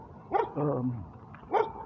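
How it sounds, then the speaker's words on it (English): A border dog at the Mexican border gives two short, fairly close barks with a longer whining, yelping note between them; no talking. "I get greeted by one of these border dogs"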